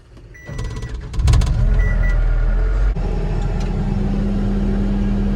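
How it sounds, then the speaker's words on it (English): A skid steer's engine runs close by at a steady, low idle, rising sharply around the first second and a half and then settling into a constant diesel rumble with a brief drop in level near the three-second mark. "Here's the skid steer in question."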